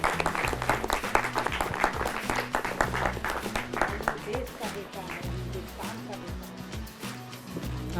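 An audience claps steadily, the applause fairly loud at first, then thinning, while music plays underneath and a voice talks over it.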